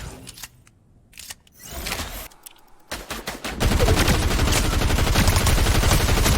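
Video game gunfire in a keyboard-and-mouse shooter match, with scattered sharp shots and clicks early on, then a dense, loud, continuous burst of rapid firing filling the last few seconds.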